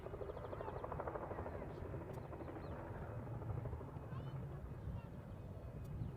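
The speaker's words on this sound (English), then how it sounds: "I can hear a helicopter swimming away." A helicopter flies away near Leeds Bradford Airport on a Saturday afternoon, giving a steady, continuous drone with rhythmic rotor pulsing that stays fairly even and moderately distant throughout, with no talk.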